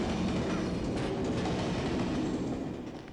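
A train rumbles past in the Kingpin: Life of Crime video game, a loud, continuous roar with rhythmic clattering wheels that fades slightly at the end.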